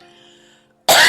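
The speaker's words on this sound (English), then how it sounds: "Let me clear my throat." A single loud, abrupt throat clearing close to the microphone, coming right after a faint hum of background tones fades to near silence.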